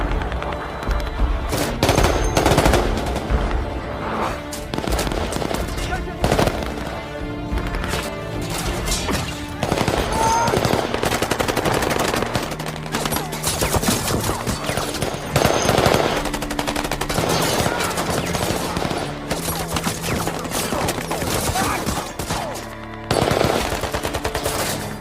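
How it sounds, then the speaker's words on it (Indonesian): An uneven firefight at a dam in a film scene, with dense automatic gunfire and single shots crackling almost continuously, loud and close, with occasional crashes. "mereka berempat terlibat baku tembak yang tak seimbang di bendungan itu"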